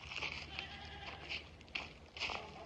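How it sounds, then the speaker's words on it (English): Goats bleating several times outdoors, nasal calls at a moderate distance with brief gaps between them. "I got goats."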